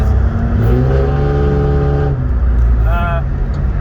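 A 3-liter inline-six car engine revs loudly up and down, a steady low growl with rising and falling pitch, close by and continuous.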